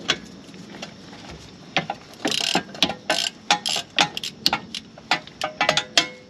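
A ratchet loosens the 10 mm wheel speed sensor bolt on a car during wheel bearing work, producing bursts of sharp, close clicking pawl sounds with brief pauses between turns, loud and alone without talk.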